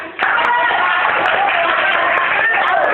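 Students in a classroom counseling lesson clap for a good question, giving steady, dense applause that begins abruptly and carries on for about three seconds with voices mixed in.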